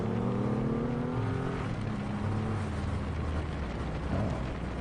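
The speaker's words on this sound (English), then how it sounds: "currently in second gear, and this bike's just essentially idling" A 2023 Triumph Rocket 3 GT motorcycle rumbles at low revs in second gear while riding, a steady deep engine drone under heavy wind buffeting, with no talk.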